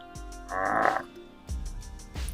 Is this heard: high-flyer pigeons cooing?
no